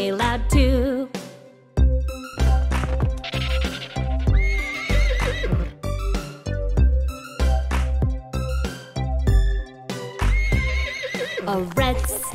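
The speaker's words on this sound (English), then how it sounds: "A brown horse neighs real loud" Loud horse whinnies ring out over a bouncy nursery-rhyme musical backing with clip-clopping beats, repeating several times.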